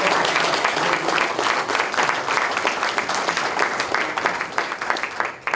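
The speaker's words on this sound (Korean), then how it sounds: "우리 추미애 대표님을 큰 환영의 박수로 맞아주시기 바랍니다." Sustained applause from a large audience at a Democratic Party field leadership meeting in Pyeongchang, Gangwon, welcoming the party leader; steady dense clapping fills the whole stretch at even loudness, with no voices standing out.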